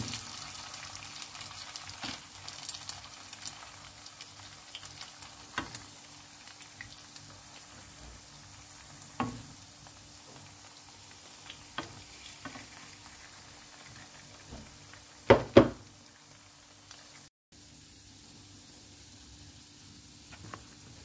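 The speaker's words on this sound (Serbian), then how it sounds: "I sad na zagrejano ulje pečem rolnice." Meat and vegetable rolls fry in heated oil, giving a quiet, steady sizzle with a few soft pops and clatters scattered through it. A louder knock comes near the end. No one speaks.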